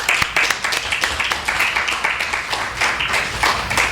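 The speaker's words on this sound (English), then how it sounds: "Let's give him a round of applause." Concert audience applause welcoming a musician to the stage: dense, continuous clapping from many hands, close and lively, lasting the whole stretch.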